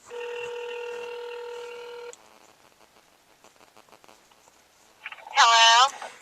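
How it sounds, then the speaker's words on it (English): A phone on speakerphone plays a long, steady dialing tone, then faint sounds, then a short, loud burst of beeping tones as the call is dialed. "So I'm calling my grandma right now. This probably will be funny, so I'm putting it on speakerphone."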